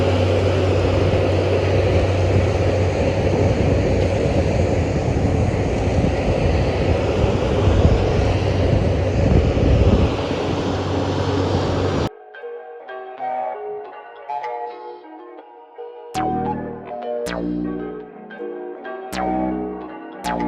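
A concrete truck arriving at a shop site for a new slab, its heavy engine droning loudly and steadily, then cutting to quieter stretches with rhythmic thumping mechanical sounds as it turns and backs down the driveway.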